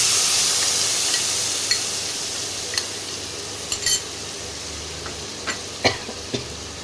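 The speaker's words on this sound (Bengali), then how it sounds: "ভালো করে নাড়িয়ে মশলাটা দিয়ে দেবো" Spice paste fries in hot oil in a pan with a steady broadband sizzle, while a spoon scrapes and stirs through it in several sharp, separate clicks and knocks, close and fairly loud, with no talking.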